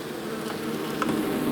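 Honey bees buzzing inside a hive as they walk over the bottom board, a dense, continuous droning hum, close up and steady throughout, with no voices.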